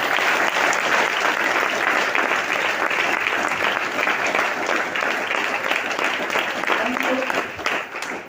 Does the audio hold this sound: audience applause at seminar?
yes